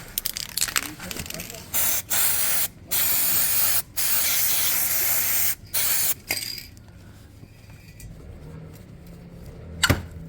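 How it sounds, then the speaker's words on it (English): Penetrant is sprayed from an aerosol can onto stiff, seized parts in several loud, close hissing bursts of roughly a second each, followed by quieter handling sounds and a sharp metallic clink. "Let's get some penetrant on there."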